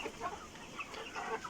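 Tiger breed chickens on a small farm of about three hundred hens and seven roosters cluck softly in scattered bursts, a faint, close flock murmur with no talking.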